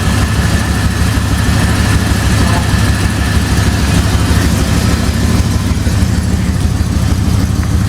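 A Holden Commodore HSV SV89 V8 engine runs at a steady, loud, close idle, its deep throbbing rumble unchanged throughout with no voices.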